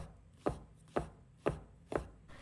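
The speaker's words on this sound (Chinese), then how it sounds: "然后再把它切得更碎一点" A knife finely chopping shiitake mushrooms on a board makes five crisp, evenly spaced thuds about half a second apart, close and fairly quiet, with no talking.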